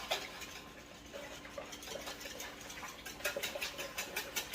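Eggs for persimmon pudding are whisked in a bowl, a faint, rapid rhythmic ticking and clicking that becomes more regular and distinct in the final second and a half, with no talking.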